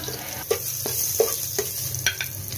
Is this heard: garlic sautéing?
yes